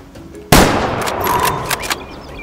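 A hunting rifle fires a single loud, close shot at an animal on African plains in the game Way of the Hunter, followed by a long rolling echo that fades out.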